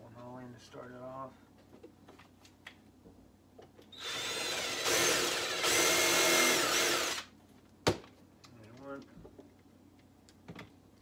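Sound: power drill drilling holes in wood for a mink box

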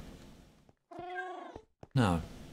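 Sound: cat meowing in the video game Minecraft

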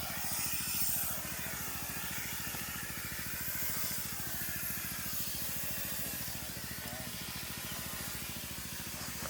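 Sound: pesticide sprayer nozzle spraying fine mist on durian trees

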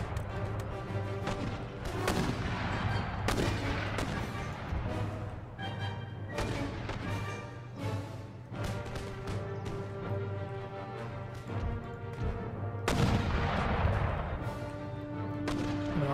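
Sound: artillery fire in Empire: Total War video game

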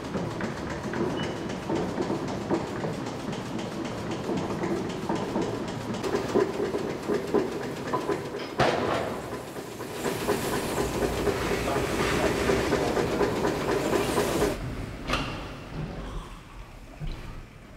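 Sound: steam beam pumping engine running at Coleham pumping station

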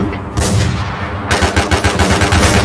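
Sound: gunfire in the video game Infestation

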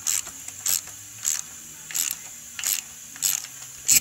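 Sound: valve spring compressor being loosened on Boss Hoss motorcycle engine

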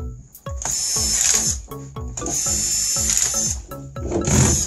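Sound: screws being put back into a Dell Inspiron laptop

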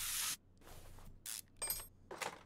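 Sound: spray can being used in Car Mechanic Simulator 2021 video game

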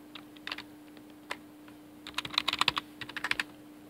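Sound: typing a password on a computer keyboard

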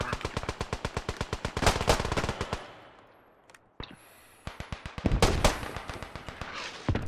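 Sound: gunfire in the video game Beyond The Wire

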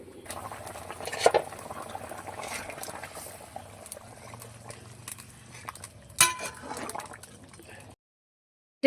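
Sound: puti fish red curry boiling in pot

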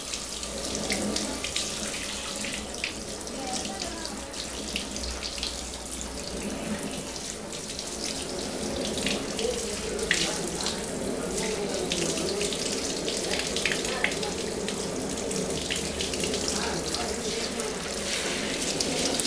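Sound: running tap water for bathing a pet

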